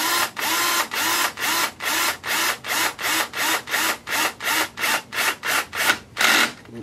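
A screw is driven into an Axial Yeti XL radio-controlled car kit during assembly. About fifteen evenly spaced, loud ratcheting twists repeat in a steady rhythm, close up with no talking.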